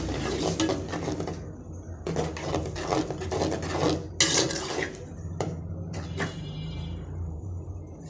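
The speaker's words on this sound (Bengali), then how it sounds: "মশলাটা ভালো করে কষাই নিই" Spice paste of turmeric, chilli powder, salt and coriander powder scraped and stirred in hot oil in a pan for rohu fish curry, a steady rasping clatter of spatula on metal with brief louder scrapes.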